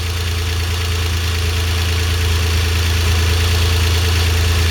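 A car engine idles steadily up close, a continuous low rumble with a fairly even drone and no speech.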